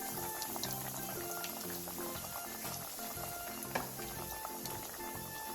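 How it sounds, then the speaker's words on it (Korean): Pieces of pork cutlet fry in oil preheated over low heat, giving a continuous soft bubbling sizzle that stays close and fairly quiet, with faint kitchen clinks over it. "약불에서 예열한 기름에 고기를 넣고 노릇노릇하게 튀겨내주세요"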